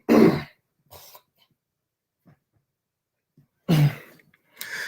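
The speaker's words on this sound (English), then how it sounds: "I gotta clear my throat." A throat is cleared with a harsh burst, followed by a few faint small sounds, then another strong rasping clear and a final short grunt.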